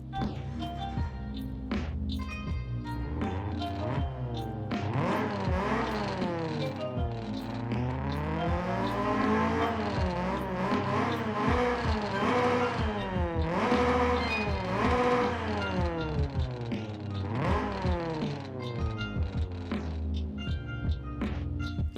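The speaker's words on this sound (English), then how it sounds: "obviously that is the 240SX engine right now" A 250 horsepower Nissan 240SX drift build in Forza Horizon 5 revs continuously, its engine pitch repeatedly climbing and dropping through gear changes over a sustained loud drone, with no talking.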